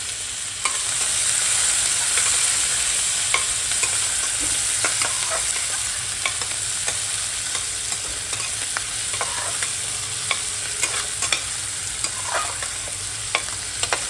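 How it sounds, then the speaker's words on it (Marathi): Finely chopped onion fries in hot oil with cumin and asafoetida, giving a steady soft sizzle close by, punctuated by scattered clicks and scrapes of stirring, with no talk. "आता कांदा आपण जो मी बारीक कापला होता तो टाकते."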